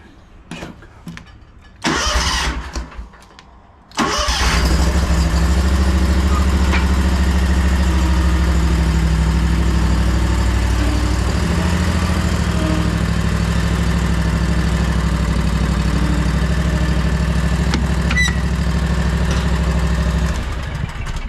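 A 2022 Scag V Ride II stand-on mower engine cranks in a few short bursts, catches and roars to life, then settles into a loud, steady idle that continues uninterrupted.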